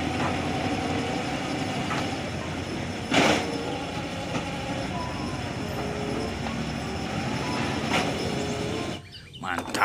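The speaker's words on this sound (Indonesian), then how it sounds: "Wih, mobil derek." A tow truck rolls past on a busy road, a steady broadband rumble of traffic with a brief louder swell midway and a short drop near the end.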